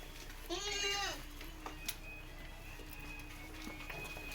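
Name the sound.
sheep bleating at market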